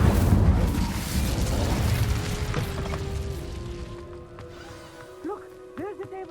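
An Incendio fire spell cast in Hogwarts Legacy bursts with a loud whooshing blast that fades over a couple of seconds, followed by a quieter tail with faint game tones and a voice underneath.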